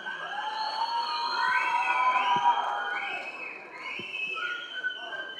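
Audience at a Tamil film event cheers and shouts steadily for actor Soori, a sustained crowd roar with whistles and yells rising and falling, with a host's voice heard over it.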